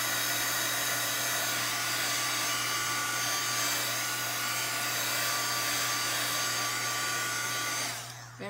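A heat tool blows hot air over puddles of mica stain on paper. Its loud, steady whir and rushing airflow carry an even mechanical hum, then the sound drops away as it switches off at the very end.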